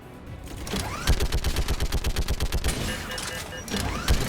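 A gas turret in the video game Mass Effect 3 fires in rapid, sustained automatic bursts, a dense run of loud evenly spaced shots with a few heavier blasts.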